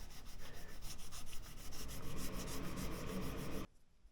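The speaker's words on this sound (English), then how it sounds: "I'm going to quickly work through the different grits on each of these two frets" A fret eraser abrasive block is rubbed back and forth over guitar frets, producing quiet rhythmic scratchy sanding strokes at a steady quick pace, close up, stopping abruptly near the end, with no talk.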